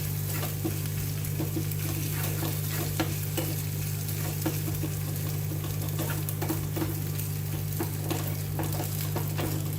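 Mustard and cumin seeds splutter in hot oil over a low flame, a steady dense sizzle with scattered sharp pops and crackles throughout, close and continuous with a low background hum and no voices.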